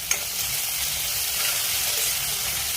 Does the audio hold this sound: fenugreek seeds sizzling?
yes